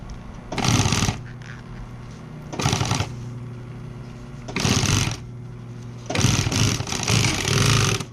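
A sewing machine stitches black and white vinyl upholstery for a checkered bench seat in four separate runs, each a loud, fast, steady whirring burst of a second or two, with a low hum in the pauses between.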